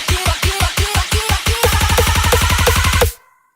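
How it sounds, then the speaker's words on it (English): A vocal riser built from recorded vocal chops: rhythmic stuttering vocal hits that speed up into a fast, dense repeated pattern, growing bright and steady before cutting off abruptly into a short tail. "So that's how you make a vocal build"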